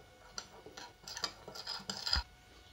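Brown sugar and salt stirred together in a bowl for KFC-style fried chicken seasoning, a series of close, light ticking and scraping clinks of a spoon, ending in a slightly louder knock.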